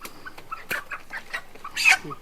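Chickens cluck in short, scattered bursts at a poultry shop, with a low background murmur and occasional louder calls near the end.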